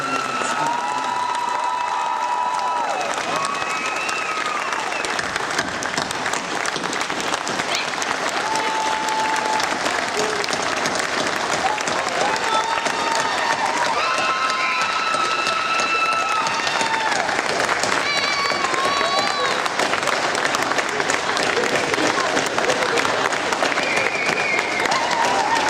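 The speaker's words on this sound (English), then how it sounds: "If we could, one more round of applause for the new firefighters." Sustained applause from a large audience at a fire academy graduation ceremony honoring new firefighters, steady dense clapping with some cheering and crowd noise, loud and continuous throughout.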